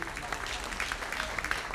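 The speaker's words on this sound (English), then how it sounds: "Clap your hands for Susan." Scattered clapping from a comedy club audience, a brief spatter of hand claps with some crowd murmur underneath, moderate and fairly close, lasting under two seconds.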